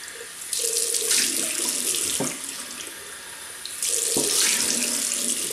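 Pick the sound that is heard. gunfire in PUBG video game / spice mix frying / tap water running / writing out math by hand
tap water running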